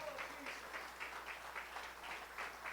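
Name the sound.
church congregation applause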